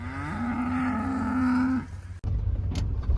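A single cow or calf on a farm pasture gives a long, loud moo close by, followed by a short thud and faint rustling.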